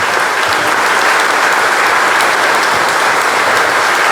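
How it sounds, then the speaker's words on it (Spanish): A church congregation at a birthday celebration mass applauds a visiting priest, a loud, dense and sustained wave of clapping filling the whole moment. "Le damos un fuerte aplauso por hacerse presente."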